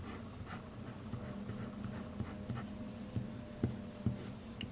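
A Hongdian N7 fountain pen with a long blade architect nib scratches across paper in soft, steady strokes, with faint rhythmic taps as the nib moves, quiet and close with no talking.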